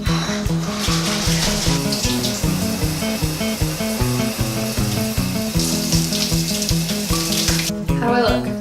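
Water splashing and running during a waterproof makeup test, a continuous loud hiss and spatter heard close up over a strong rhythmic music bed, with brief louder surges near the end.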